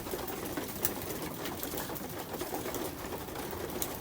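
Pigeons in a loft feed and coo softly. Low cooing mixes with a dense patter of pecking and shuffling, with an occasional sharper tap or flutter, all fairly faint.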